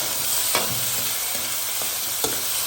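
Pork frying in a little oil, a steady close sizzle with occasional stirring clanks from a utensil in the pan, no one talking.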